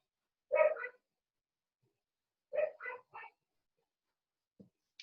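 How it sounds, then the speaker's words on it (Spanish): A small pet dog barks in two short bursts, a single yap and then a quick run of three or four, fairly close in an otherwise quiet room, with a faint low whimper near the end. "Disculpen por mi perrito."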